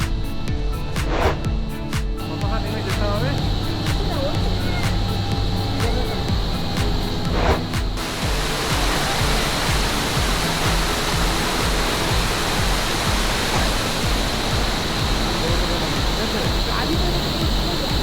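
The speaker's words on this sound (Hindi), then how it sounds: "जंग झरने सड़क से दिखाई दे रहे हैं।" Jung Falls, a waterfall near Tawang seen from the roadside, gives a steady broadband roar of falling water throughout, with some brief clicks and handling sounds early on.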